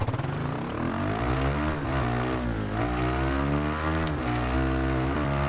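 A Husqvarna Vitpilen 401 Aero motorcycle engine drones steadily while being ridden, a loud continuous single-cylinder roar with shifting pitch and wind noise, no voices over it.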